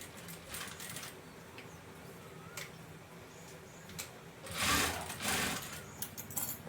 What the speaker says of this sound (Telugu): మధ్యలో ఇక్కడ పెట్టేసి దీని మీద కుట్టు రానివ్వండి